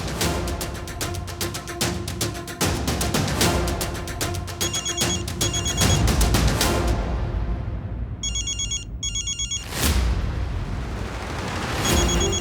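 A phone rings insistently with a repeating electronic ringtone, loud and close, the pattern pausing briefly before resuming.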